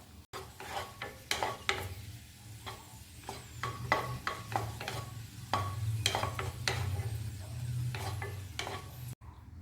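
Nuts dry-roasting in a pan over a low flame for date-and-nut laddus, with a soft continuous rustle and repeated scraping stirs scattered across the whole stretch, fairly quiet and with no talking.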